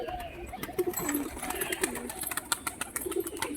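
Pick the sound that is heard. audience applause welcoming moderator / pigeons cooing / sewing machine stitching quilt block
pigeons cooing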